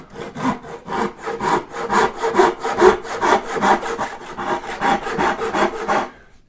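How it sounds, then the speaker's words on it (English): A hand saw cuts through wood for angled dovetails on a tool tote, with about fifteen quick, even back-and-forth rasping strokes, close and loud, and no talk. "our saw isn't deep enough to cut all the way across"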